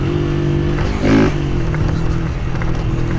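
Motorcycle engine revving loud and close, with a brief surge in pitch partway through as the gear shifts, then settling back into a steady drone.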